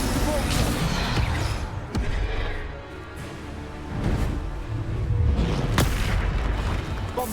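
Bombarda explosion spells cast in combat in the video game Hogwarts Legacy: several deep booms and bursts, spaced a second or two apart, over busy battle noise.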